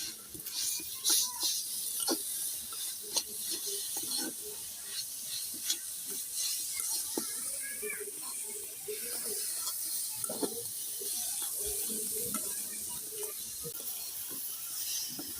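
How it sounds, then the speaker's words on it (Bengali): Coconut and jaggery filling for fried palm pulis stirred in a pan, with scraping spoon clicks and scrapes over a soft steady hiss and sizzle, close up and without speech. "এবার আমি ভালো করে নেড়ে চেড়ে একটা নারকেলের পুরটা বানাই নেব।"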